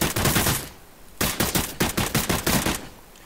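Rapid automatic gunfire from a first-person shooter demo built in Unreal Engine 4, two close bursts of quick shots separated by a short pause, loud and with no talking.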